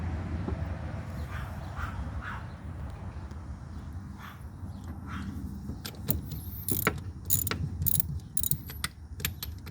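Bolts being loosened on a Kubota mower during a belt change, with soft ratcheting clicks building into a run of sharp metallic ratchet bursts near the end, close and alone.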